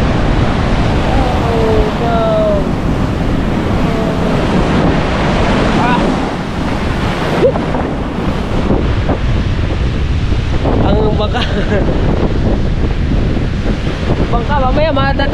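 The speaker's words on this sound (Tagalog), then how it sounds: "alon laki" Heavy surf crashing and rushing in a continuous roar, with strong wind buffeting the microphone throughout.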